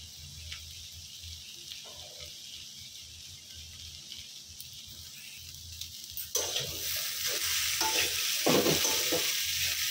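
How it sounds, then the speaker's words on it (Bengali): Bitter gourd frying in a pan with little oil, a steady soft sizzle that swells louder in the second half as the pieces are stirred, with scraping and clinking of the spatula up close. "করলা ভাজি সময় লাগে, যত সময় নিয়ে ভাজা হবে খেতে তত মজা লাগবে।"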